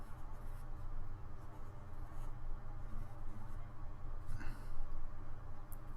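A pen drawing on paper, sketching fingers and a gecko's leg, gives a steady, close scratching that runs throughout, soft and continuous with slight rises in pressure.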